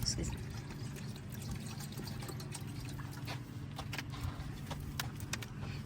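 Water poured steadily from a container into a bowl for a dog to drink on a roadtrip stop, a continuous close trickle and splash running throughout with no talk.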